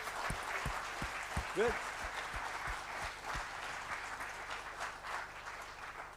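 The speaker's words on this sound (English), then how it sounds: "let's make a big applause for all the speakers." An outdoor audience at a FOSS4G conference in Prizren applauds the speakers, the clapping fairly faint and distant, with a voice speaking briefly over the spread of claps.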